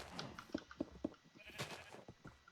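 Minecraft sheep in a blocky game world let out three short, evenly spaced bleats, followed by a fainter fourth, all over low background game noise.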